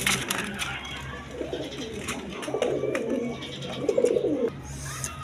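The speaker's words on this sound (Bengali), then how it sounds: "এখানে এক পেয়ার গররা কবুতর আছে" A pair of Gorra pigeons cooing close by, soft low coos rising and falling over a background murmur, with a clearer run of cooing near the end.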